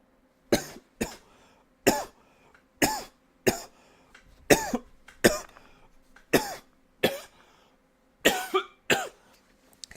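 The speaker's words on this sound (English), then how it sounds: "That was a delayed cough." A person coughs repeatedly, a run of about a dozen sharp, close coughs in uneven bursts, some doubled, with short quiet gaps between them.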